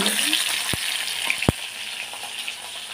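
Rohu fish frying in a pan, a continuous close sizzle with a couple of sharp clinks of a utensil against the pan, no talking.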